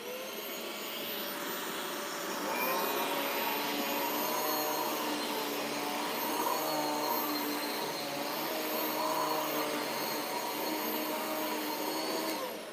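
A Riccar stand-up upright vacuum cleaner with two suction motors runs continuously, a loud steady whirring roar with a high whine that swells slightly partway through, no voices.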